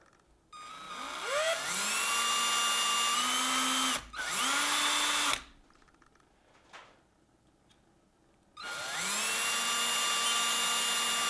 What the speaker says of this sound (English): Now you go, Kevin, you don't even know if you're drilling them holes straight.